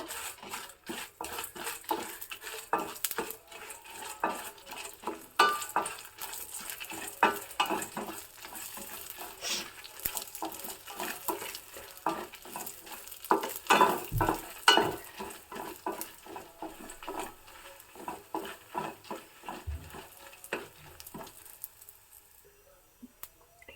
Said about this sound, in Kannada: ನಂತರ ಒಣಮೆಣಸು ಖಾರಕ್ಕೆ ಬೇಕಾಗುವಷ್ಟು ಮತ್ತು ಒಂದು ಡ್ರಾಪ್ ಆಗೋಷ್ಟು ಎಣ್ಣೆ ಹಾಕಿಬಿಟ್ಟು ಚೆನ್ನಾಗಿ ಹುರ್ಕೋಬೇಕು